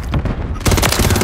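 Loud video game gunfire in Call of Duty: Modern Warfare 3, a quieter rattle giving way to a sudden dense burst of rapid shots.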